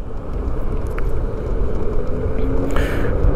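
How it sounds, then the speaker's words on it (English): Onyx electric bike riding along a street, giving a steady, close low rumble of tires and wind with no voices. "I do want you guys to hear some sound, how it is, the riding sounds"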